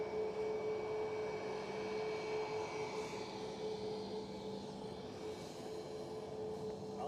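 A plane taking off at Edinburgh Airport gives a steady, distant roar with a faint whining tone. The sound holds constant for several seconds with no voices.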